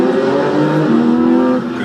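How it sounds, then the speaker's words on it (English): Porsche 718 GT4 with a naturally aspirated 4-liter flat-six engine revving hard, a loud, sustained and steady engine roar with strong rising harmonics, easing off slightly at the very end. "That thing really revs up. I love the noise of this engine."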